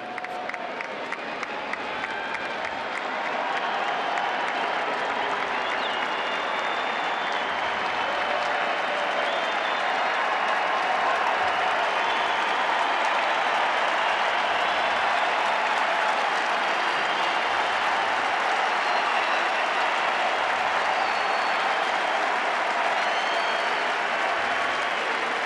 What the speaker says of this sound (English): Listen to the ovation.